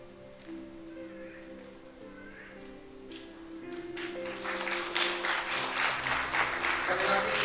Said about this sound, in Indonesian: Sekali lagi kita berikan tepuk tangan yang meriah